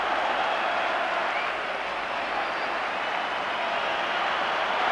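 Spectators at Ibrox give sustained applause as Rangers player John Brown leaves the field against Hearts: a steady, dense wash of clapping from a large stadium crowd, even in loudness throughout.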